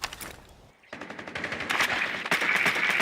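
Rapid automatic gunfire from a Rainbow Six Siege esports match, loud bursts of close shots after a brief lull, then sustained dense firing through the end.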